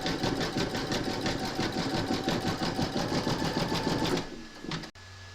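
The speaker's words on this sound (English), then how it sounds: "pop our hoop into our machine and stitch round number 7, and that's going to zigzag along this join" Embroidery machine stitching a zigzag seam to join fabric runner segments: a steady, fast mechanical whir with rapid needle rhythm for about four seconds, then it slows and stops with a few clicks.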